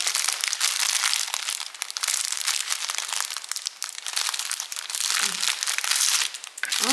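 Plastic packaging around a brand-new cross-stitch canvas crinkles continuously as it is handled and pulled open, a close, dense, crackling rustle that fills the clip without pause, with no talk.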